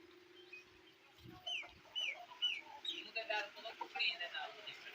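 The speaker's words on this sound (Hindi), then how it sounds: "और इसमें मुर्गे और मुर्गियां हैं कमरे के अंदर।" Chickens and roosters cluck and chirp in short, scattered calls over a low steady hum, fairly close inside a village room.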